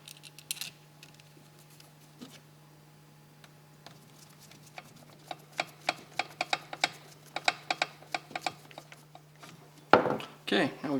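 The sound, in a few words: screwing four screws back into primer bulb plate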